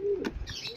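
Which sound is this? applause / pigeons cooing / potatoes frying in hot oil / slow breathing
pigeons cooing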